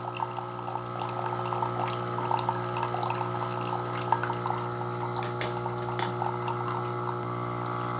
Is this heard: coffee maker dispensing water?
yes